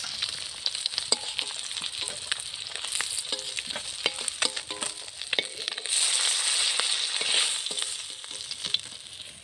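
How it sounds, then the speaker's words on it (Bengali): Pieces of fish, including the head and tail, fry in hot oil with a steady crackling sizzle and bursts of spattering, stirred now and then, growing louder partway through with no voices. "এরকম করে ভেজে নেব সবগুলো মাছ।"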